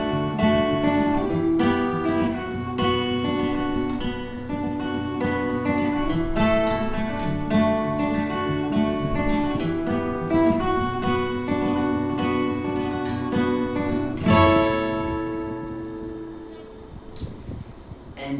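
An acoustic guitar plays the chorus of a song with a steady strumming pattern of ringing chords that continues for most of the passage, ending on a final strum that rings out.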